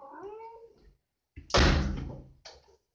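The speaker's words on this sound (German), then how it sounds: "Oh, meine lästige Katze" A cat lets out a short meow, then after a pause a loud thump like a door banging, followed by a brief fainter knock.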